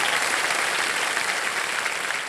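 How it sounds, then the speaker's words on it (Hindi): Studio audience at a televised quiz show breaks into sustained applause, a dense, even wash of clapping that stays steady throughout and fades slightly at the end. "जोरदार तालियों के साथ इनका अभिनंदन हो जाए।"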